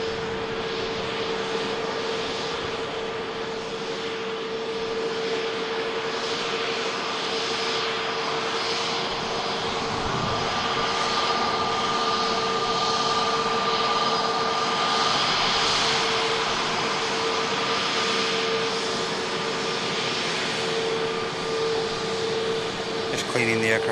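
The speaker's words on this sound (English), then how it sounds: "next arrival looks like it's going to be a TUI 73 coming in from Split" A TUI Airways Boeing 737 arriving at Manchester Airport, its jet engines producing a steady, continuous roar with a sustained tonal whine throughout, fairly loud and unbroken.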